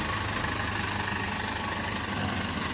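The 2005 turbo intercooler engine of a factory-raised pickup truck idles with a low, steady rumble and faint vibration, heard close and alone at moderate level.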